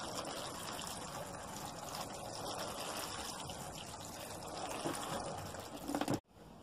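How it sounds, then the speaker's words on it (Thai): Water pours steadily from a can or hose onto freshly sown mixed-colour beetroot seeds, a continuous close splashing trickle that stops abruptly at the end, followed by quiet. "แล้วรดน้ำด้วยค่ะ"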